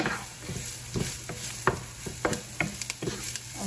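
Ingredients for upma sizzling over medium heat in a large pan, with a steady soft fry hiss beneath intermittent scraping and knocking of a spoon stirring, close and unaccompanied by talk.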